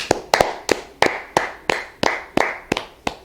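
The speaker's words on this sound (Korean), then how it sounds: "자, 먼저 자축의 박수 먼저 칠게" Self-congratulatory hand clapping in celebration of passing two university admissions: roughly ten sharp, close claps in a steady, slightly uneven rhythm, heard alone without talking.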